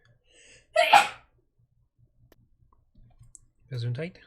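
A single loud, close sneeze bursts out once, followed by near silence, faint clicks and then a short spoken phrase from a voice.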